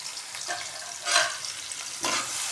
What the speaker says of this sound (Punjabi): ਤੇਲ ਆਪਣਾ ਹੋ ਗਿਆ ਗਰਮ ਤੇ ਇਹਦੇ ਵਿੱਚ ਆਪਾਂ ਪਾ ਕੇ ਆ ਪਿਆਜ਼ ਤੇ ਨਾਲ ਹੀ ਪਾਤਾ ਲਸਣ ਇਹਨਾਂ ਨੂੰ ਆਪਾਂ ਭੁੰਨ ਭੁੰਨ ਕੇ